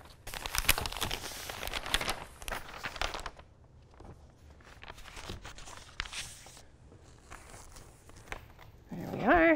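A sheet of paper is slid beneath a shirt, giving a run of close crinkling and rustling, loudest at the start, with short pauses and a voice briefly at the end.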